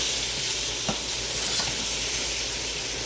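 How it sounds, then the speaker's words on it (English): Onions sautéing in a pan for sliders give a steady, even sizzle with a faint hiss and a few soft clicks of stirring, close by with no talking. "my sauteed onions for the sliders. They're just about ready over here."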